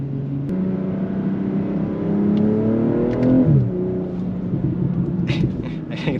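A car driving and accelerating, its engine note climbing steadily through a gear before a shift, then settling into a steady rumble while driving on.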